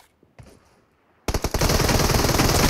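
Automatic gunfire in a battle royale video game: a couple of faint shots early, then a sudden loud, sustained rapid-fire burst that continues to the end.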